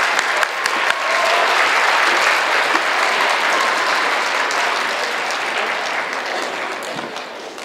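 Sustained audience applause at a school awards ceremony honoring students who received a Work Ethic Award, steady and dense throughout, slowly tapering toward the end.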